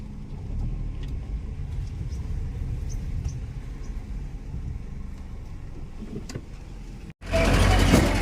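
Jeep setting off on an off-road forest trail, a steady low engine rumble with faint rattles heard from inside, ending in a sudden louder burst of wind and engine noise.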